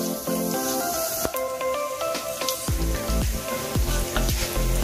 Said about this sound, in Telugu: ఆయిల్ హీట్ అవ్వగానే పోపు గింజలను వేసుకుందాం. జీలకర్ర ఆవాలు వేసామండి.